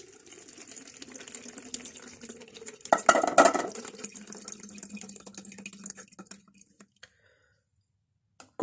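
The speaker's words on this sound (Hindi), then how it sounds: "जो हमने पनीर बनाया है ये सारा का सारा इसमें डाल देंगे ताकि जो पनीर है ये इसमें कपड़े में रह जाए और पानी सारा नीचे निकल जाए" Water draining from freshly made paneer through a muslin cloth, a soft steady trickle and splashing that swells in the middle, then thins to faint drips and stops near the end.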